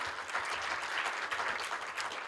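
A university audience gives a round of applause at a health intelligence centre launch, even dense clapping heard fairly quietly, as if from a distance, across the whole stretch.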